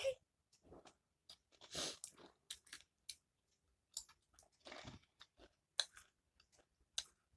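Crispy fried nimki being chewed with tea, giving close, sharp crunches in irregular bursts separated by quiet pauses, with no talking.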